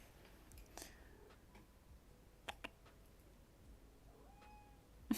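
An indoor cat gives a few faint, short meows near the end, with light ticks and small clicks scattered through an otherwise quiet room.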